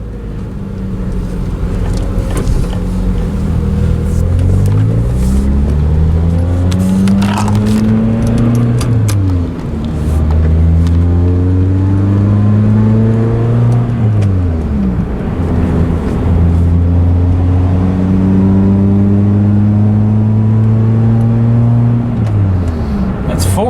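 A car engine revs and climbs through the gears while driving after a transmission replacement. It makes loud repeated rising pitch sweeps, each followed by a drop at the shift, with steady road rumble underneath.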